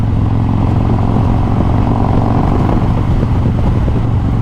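A 2020 Harley-Davidson Road Glide Special fitted with a 128 big bore kit accelerates hard, its loud, close V-twin rumble thick and continuous with heavy low-end throb and wind buffeting throughout.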